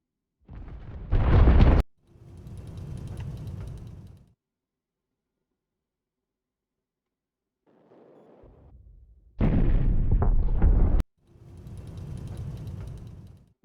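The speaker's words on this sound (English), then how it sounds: "Missile strikes inbound, boys." Missile strikes exploding in the Highfleet video game: a loud, sharp blast near the start and another mid-clip, each followed by a duller rumbling boom, with a short quiet gap and a faint murmur between them.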